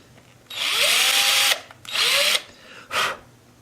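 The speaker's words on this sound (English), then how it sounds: "You just don't want to drill through." A power drill bores into a Sam Bush mandolin in a repair shop, running in three bursts: two long, steady whines of about a second each, then a short final touch, loud and close with no talk.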